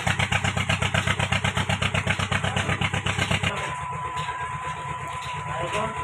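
A Mahindra 575 tractor engine runs at a sugarcane jaggery-making site, its loud, steady thumping idle pulsing rhythmically for a few seconds before dropping to a quieter, smoother running hum.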